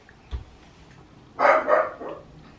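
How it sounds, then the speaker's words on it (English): A dachshund indoors lets out a couple of quick sharp barks, close and clear, after a brief thump in an otherwise quiet room. "She'll probably bark for ages, I apologise, but life with a dachshund."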